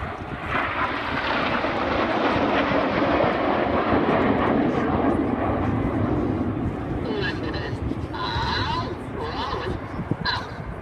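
Red Arrows display jets at the Biggin Hill air show 2017, a loud continuous roaring jet engine drone that swells and then eases, with a commentator talking over it.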